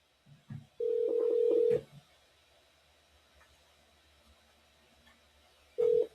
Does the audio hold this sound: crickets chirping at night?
no